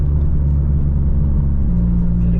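A 2016 Mazda MX-5 Miata's engine drones loud and close from inside the cabin, its low rumble shifting pitch partway through as the revs change on a quick downshift.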